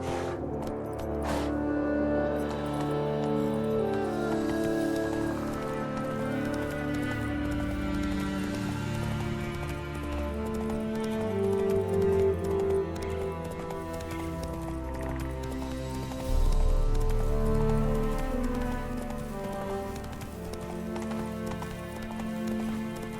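A horse gallops in The Witcher 3 video game, with steady rhythmic hoofbeats running under layered game music and ambience, continuous and moderately loud.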